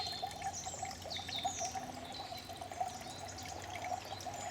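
Water pours and trickles from a carrier at a winter wild camp in local woods, a soft continuous stream with faint birdsong in the quiet background.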